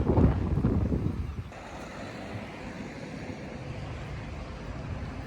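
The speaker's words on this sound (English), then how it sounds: "Windy and rainy." Gusting wind roars against the microphone on a windy, rainy day, strongest at first and then settling into a steady rushing noise, with something like surf in the background.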